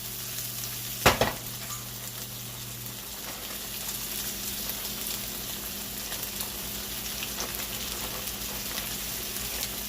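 Broccoli slaw for a keto stir fry hits a hot pan with a sharp burst of noise, then settles into a steady, loud, crackling sizzle that continues alone without pause.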